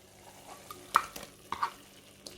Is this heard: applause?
no